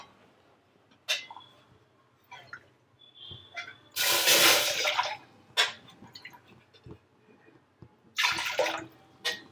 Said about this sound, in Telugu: మూడు కప్పులు పోస్తున్నా.